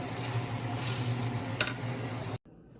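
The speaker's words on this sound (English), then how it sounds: "making some stir fry here, y'all. Gonna get some stir fried vegetables, broccoli and cherry tomatoes" Broccoli and cherry tomatoes stir-fried in a pan, a close, steady sizzle with scraping and stirring, then an abrupt cut to near silence.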